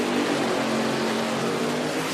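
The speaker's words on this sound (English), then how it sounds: "Wow, Lucan's car really laid down. Did you hear that" An IHRA Pro Mod drag racing car makes its run, heard as a loud, steady, unbroken engine roar that fills the whole stretch without a pause.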